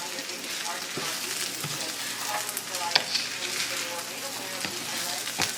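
Rice frying with Holy Trinity vegetables (onion, celery, bell pepper) for Cajun jambalaya gives a steady, dense sizzle throughout, with occasional stirring scrapes and light pops close by.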